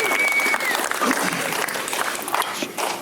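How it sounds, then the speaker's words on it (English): Wedding guests applaud together during the speeches, a dense, steady burst of clapping that fills the room for several seconds, with a few voices and whistles riding over it. "Raise applause."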